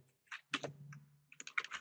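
Computer keyboard keys are pressed during 3D modelling work in Blender: a few quick, close clicks in two short bursts separated by a brief pause, quiet and with no talking.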